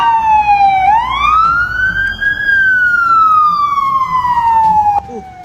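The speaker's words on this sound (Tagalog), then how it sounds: "Paparating na po yung ambulansya!" A loud ambulance siren wails close by, a single long tone sweeping up then slowly gliding down, with a brief break in the middle.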